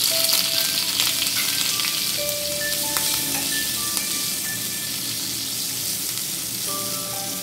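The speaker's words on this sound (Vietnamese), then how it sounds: "Rồi mình cho bạch tuộc vào xào trên lửa lớn khoảng 1 phút." Octopus stir-fries over high heat in a hot pan with cooking oil for a spicy Korean dish, giving a loud, continuous sizzle with crackling spatter and the scrape of stirring.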